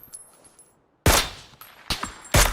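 Rifle shots in the battle-royale game PUBG, including an AWM sniper rifle firing at long range: three sharp, loud reports spaced about a second apart, each with a short rumbling tail, after a quiet lull.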